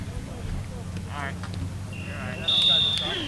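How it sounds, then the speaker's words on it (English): A high, steady electronic buzzer sounds near the end, ending a round of a varsity high school wrestling match in a gym, heard over low background noise and faint voices. "And there sounds the buzzer."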